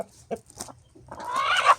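A 5.6 kg rooster clucks in short bursts, then lets out a longer, rising squawk, close and fairly loud.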